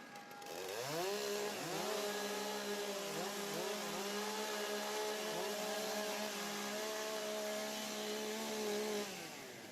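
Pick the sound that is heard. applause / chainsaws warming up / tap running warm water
chainsaws warming up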